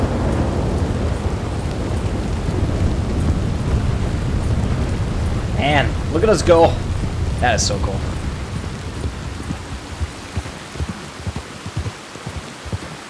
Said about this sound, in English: That's a storm inbound.